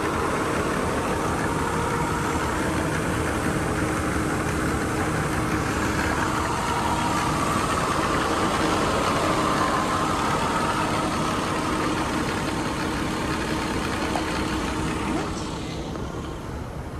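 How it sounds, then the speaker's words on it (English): A 1992 Mercedes 300 CE engine idles steadily for the whole stretch, a continuous low rumble with a broad hiss on top, easing off slightly near the end. "so the engine is running quietly"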